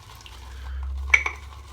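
A boar-bristle shaving brush loads cherry soap in a mug, giving a faint soft swish followed by two brief sharp scrapes near the end.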